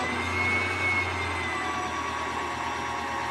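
A sewing machine runs steadily while winding a bobbin, giving a continuous whirring drone at even speed throughout, close and fairly loud with no pauses.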